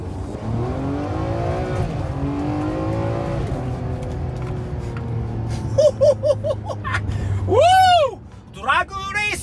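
A Ferrari 599 with a front-mounted V12 pulls hard from inside the cabin, the engine note climbing through rising revs with quick upshifts and a sharp bark near the end, while occupants talk and laugh over it.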